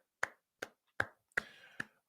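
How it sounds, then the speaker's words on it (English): One person claps hands five times at an uneven pace, sharp and close, alone with no voices, while congratulating a Baltimore Ravens football audience on a narrow win over the Browns. "We're just going to sit back and clap for a second."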